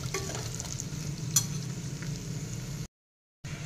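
Carrots, capsicum, onion and tomato for a veg soya pulao sizzle and fry in a pressure cooker while being stirred, a close, steady frying hiss with occasional scrapes, cut off by a brief silence near the end.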